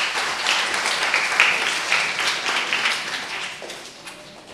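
Applause for a teacher, Mrs. Joseph, at a primary school end-of-year ceremony: a broad, steady patter of many hands clapping together that holds fairly even throughout, then thins slightly near the end.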